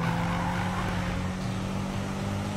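A car brakes hard in the video game Need for Speed, a loud continuous tire squeal and skid over a low engine drone, steady throughout with no talk.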